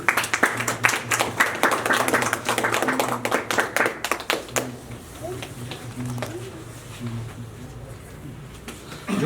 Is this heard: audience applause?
yes